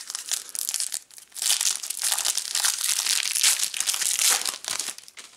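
Foil wrappers on vintage basketball card packs crinkle and tear open loudly and up close, in a continuous rustling stream with brief dips.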